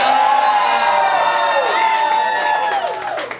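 A drag show audience at a question-and-answer session screams and cheers loudly and continuously, a dense crowd of high whoops and shouts sustained throughout and tapering slightly at the end.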